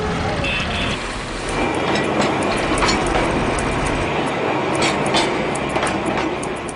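A Darjeeling Himalayan Railway train rumbles steadily along the rails with faint rhythmic clicks and a brief high whine, continuous and fairly close.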